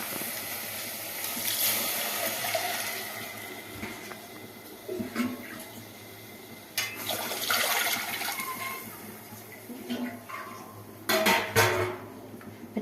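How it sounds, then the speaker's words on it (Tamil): Water splashes and pours into a metal pot in a few bursts, with clinks of pots and utensils between pours. "இதுக்கு மூணு செம்பு தண்ணி ஊற்றணும்"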